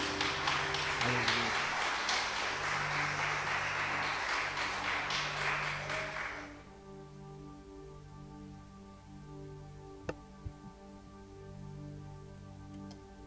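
A church congregation in a garage service applauding, a dense burst of clapping for several seconds that cuts off abruptly, leaving a quiet room with a few faint taps.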